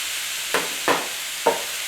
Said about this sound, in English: So this way we can cook those vegetables with a cleaner pan.